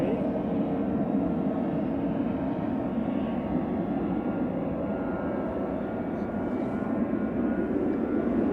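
A jet airliner approaching Manchester Airport makes a continuous low rumbling roar that stays steady and fairly loud throughout, with a voice talking over it.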